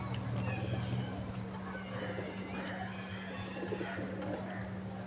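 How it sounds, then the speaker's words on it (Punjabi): Indian Lakha pigeons in a loft give soft cooing calls over a steady low hum, with bird sounds scattered throughout at moderate distance. "ਇੰਡੀਅਨ ਲਾਖੇ ਕਬੂਤਰ ਜਨਾਬ, ਪਿਓਰ ਇੰਡੀਅਨ"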